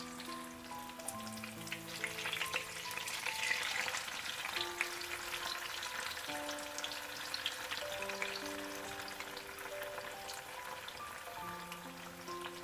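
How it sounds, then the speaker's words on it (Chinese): Tofu slices pan-fried until golden on one side, then flipped to fry the other, for a napa cabbage and tofu stew; a steady, fairly soft sizzle runs throughout beneath background music. "豆腐煎至一面金黄之后，给它翻个面儿，再煎另一面"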